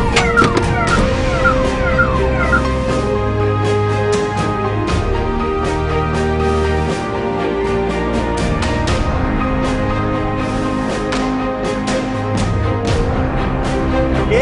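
An ambulance siren wails through congested road traffic, loud and close, its sweeping tone running steadily over the rumble of engines and scattered horns.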